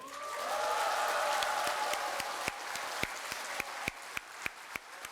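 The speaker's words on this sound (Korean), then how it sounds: "박수 소리가 마치 제 앵콜을 요청하는 것 같아서" A crowd at a Seoul party political rally breaks into loud, dense applause that swells, then thins into a few scattered sharp claps near the end.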